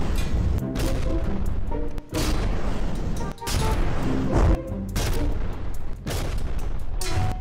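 Dense, loud gunfire at a boat in the naval combat game From The Depths, a steady barrage of overlapping shots and booms broken by brief pauses.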